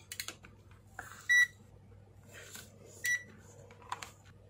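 A multimeter gives two short, sharp beeps about two seconds apart during a continuity test on an isolation transformer, heard over a quiet low hum with faint handling clicks.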